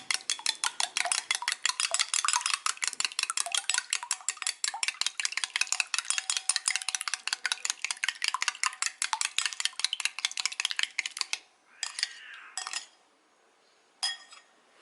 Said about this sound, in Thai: เราตีไข่ให้แตกนะคะ ให้แตกละเอียดเลยนะคะ